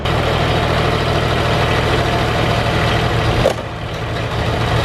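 Diesel engine on a farm sprayer running steadily after glow plug warm-up, a loud, even idle rumble close by that drops away abruptly near the end.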